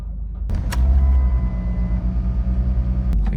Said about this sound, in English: The car has started